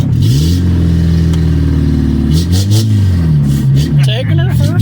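VW Rabbit diesel pickup engine running loud and steady, with a low clattering drone and rising revs as the truck pulls off for a drive, people talking over it.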